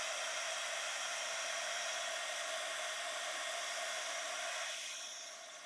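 A hair dryer blows steadily and close up while drying an art journal page, a constant airy roar that stays even for several seconds before easing slightly in pitch and level near the end.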